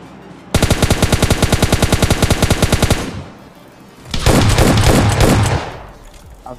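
Cover fire from teammates in PUBG Mobile Lite: a long, evenly paced burst of loud automatic fire, a brief pause, then a second denser, rougher burst of shots.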